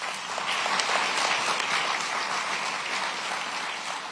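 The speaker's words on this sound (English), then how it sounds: "Can we give them one more round of applause?" Sustained applause from the audience at a police-community relations awards ceremony, dense steady clapping filling the room at an even level throughout.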